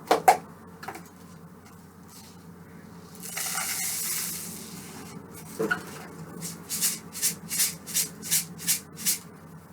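Dry millet grains rattle in a shaker, first a longer swishing pour, then a run of about six short, even shakes in a steady rhythm, close and moderately loud.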